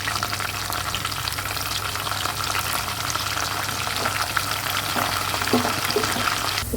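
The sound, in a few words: curry leaves frying in tempering oil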